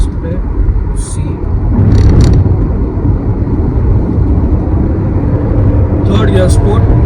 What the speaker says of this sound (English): 3rd gear sport. Full kickdown acceleration.